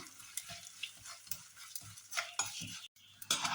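Urad dal, rice and red chillies roasting in oil in a pan, quiet sizzling with repeated scraping stirs of a spoon at a steady rhythm.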